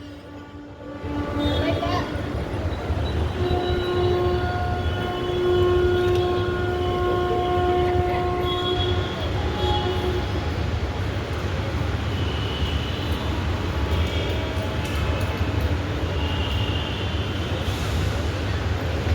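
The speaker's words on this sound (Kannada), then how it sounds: "ಎಲ್ಲರೂ ಇವಾಗ ಮೆಟ್ರೋಗೋಸ್ಕರ ವೆಯ್ಟ್" A metro train pulls into a station with a loud continuous rumble and drawn-out squealing tones, while people talk nearby.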